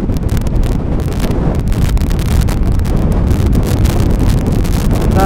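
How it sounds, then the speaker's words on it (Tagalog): Loud, buffeting wind roars across the microphone while riding a Honda ADV 160 motorcycle at about 80 km/h on a long straight road, gusting continuously without letup. "Grabe, ang lakas ng hangin."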